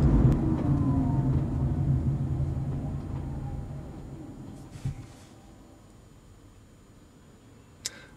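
A Honda Freed Hybrid with a seven-speed i-DCD gearbox on a test drive, heard as steady cabin road and engine rumble that fades quieter toward the end, with a couple of brief knocks.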